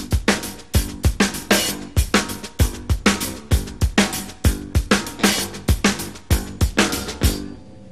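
A full drum kit plays a steady groove, kick and snare hits evenly spaced with accented snare strokes and open hi-hat splashes ringing between them, loud and close with no talking.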